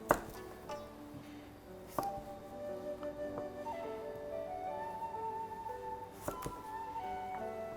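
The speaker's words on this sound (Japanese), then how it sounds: "人参も同じぐらいにこう切って" A knife cuts carrot into thin strips on a board, giving a few sharp separate taps spaced several seconds apart over a quiet room hum, with no talk.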